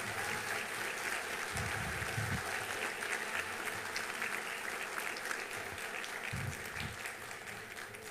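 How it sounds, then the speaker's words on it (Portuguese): An audience at the opening ceremony of the 34th Festa Nacional da Uva applauds two festival ambassadors, a steady, distant wash of clapping sustained for several seconds with low rumbling underneath. "Eu peço uma salva de palmas para elas."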